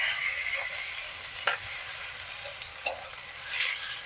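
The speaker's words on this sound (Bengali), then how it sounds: "রসুনটা সামান্য একটু পেঁয়াজের সাথে ভেজে নেব।" Garlic paste frying with onions in a pan for a Bengali methi saag dish gives a soft, steady sizzle, with two brief clinks of a spoon stirring partway through.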